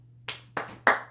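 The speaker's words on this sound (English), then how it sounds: "I'm giving them the round of applause." Three single hand claps ring out close up, spaced roughly a quarter second apart and each a little louder than the one before, against a faint steady hum.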